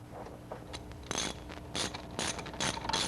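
Ratchet wrench clicking in short bursts while a car's AC compressor is unbolted, several quick rachety runs separated by brief pauses, close and clear with no talking.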